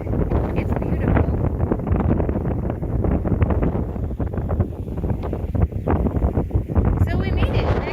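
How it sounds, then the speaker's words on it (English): Strong wind gusts roar steadily across the microphone outdoors at a wheat harvest site with combines and a trailer nearby, a loud continuous rumble with bursts of buffeting throughout and speech partly buried beneath it. "it's super windy, which is nice because it doesn't make it feel like it's so hot"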